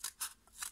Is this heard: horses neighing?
no